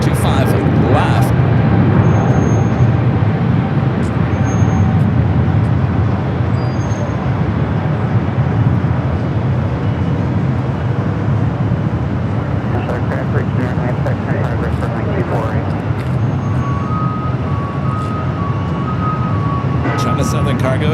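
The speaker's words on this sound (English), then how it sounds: "We got a 777 rolling down to 25 left." A Boeing 777 freighter rolls down runway 25 Left at Los Angeles International Airport: a steady, loud, unbroken jet roar and rumble persisting throughout, with people talking over it.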